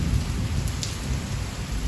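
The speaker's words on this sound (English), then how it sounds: "Lots of thunder." Low thunder rumbles through a storm behind steady rain pattering on surfaces, a dense, continuous wash without voices.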